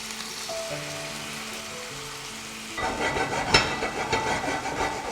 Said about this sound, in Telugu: మనం అన్నీ ఒకసారి వేపేసుకుందాం